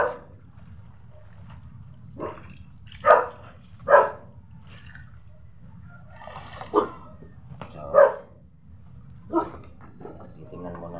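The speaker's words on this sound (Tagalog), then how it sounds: "may ingay na aso doon eh" Several dogs bark at a house in short, separate bursts of one or two yelps, spread over about eleven seconds and moderately close, with a steady low background hum between the barks.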